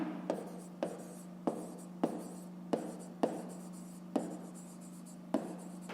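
Pen or chalk strokes tap and scratch in short, distinct bursts while a fifth-grade math exercise is written out, with a faint steady hum underneath and no talking.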